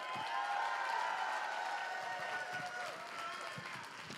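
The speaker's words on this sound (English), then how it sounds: "Give yourselves a round of applause." Audience applause at a convention's closing ceremony, a sustained wash of clapping from a large crowd with a few cheers and whoops, fairly distant and even throughout.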